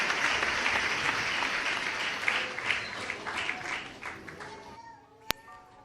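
A church congregation claps and applauds during a sermon, a dense wash of clapping that fades over several seconds and ends with a single sharp click.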